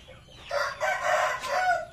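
A chicken crows once, close and fairly loud, in a short strained call lasting under two seconds, with no talk over it.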